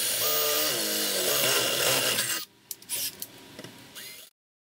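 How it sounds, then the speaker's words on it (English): Power tool cutting a burner hole in the side of a metal forge tank, a loud shrill whining grind with shifting pitch that stops abruptly, followed by a few short clanks and scrapes before silence. "I cut a hole for the burner tip in the side of the tank"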